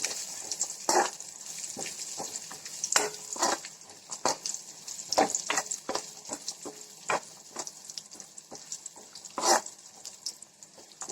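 Adapradhaman payasam with raisins stirred in a pot, a utensil knocking and scraping in irregular clicks and swishes over a soft bubbling, close, with no talk.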